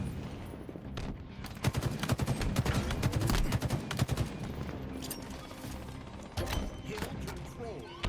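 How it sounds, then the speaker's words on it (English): Rapid bursts of SMG fire in Halo Infinite crackle in quick succession, sharp repeated shots clustering and pausing over several seconds at moderate level in a video game firefight. "This SMG is deadly up close"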